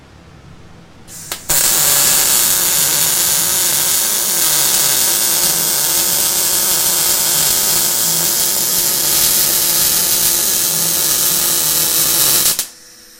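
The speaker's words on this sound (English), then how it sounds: "All right, I'm going to be welding." Steady, loud electric arc welding on metal, a continuous harsh sizzling crackle that starts abruptly, runs unbroken for about eleven seconds and then cuts off.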